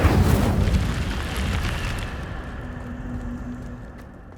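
A fire spell in the wizarding game Hogwarts Legacy erupts with a loud whooshing burst at the start, then decays into a long crackling, rumbling tail that fades over several seconds.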